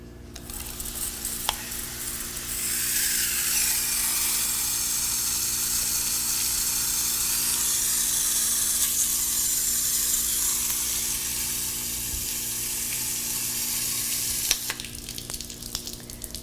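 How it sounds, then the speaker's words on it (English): Steady hissing fizz of water soaking into the dry soil of a potted plant, with bubbles rising from the pot; a continuous close sound that eases slightly near the end, with no talk. "Completely soak it, and then wait until it dries again before you water it."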